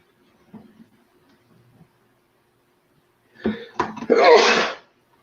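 A single loud, close sneeze near the end, after a few seconds of quiet with faint small noises.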